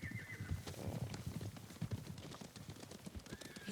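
Horses gallop in the video game Ghost of Tsushima, a steady drumming of hooves with neighs and whinnies over a busy, close game soundscape.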